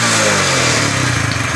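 A motorcycle engine, just kick-started, revs loud and close in a short burst with a rough mid-range roar that settles slightly at the end.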